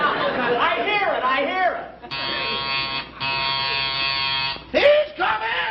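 A door buzzer in a classic television comedy sounds a steady harmonic electric buzz for about a second, then a second longer buzz, with a voice talking before and after.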